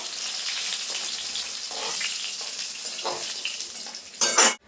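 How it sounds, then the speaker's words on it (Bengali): Okra frying in oil in a pan gives a steady, close hiss of sizzling, then a louder burst of stirring and scraping near the end. "ভেন্ডিগুলো ভেজে নিয়েছি খুব ভালোভাবে এখন আমি তুলে নেবো"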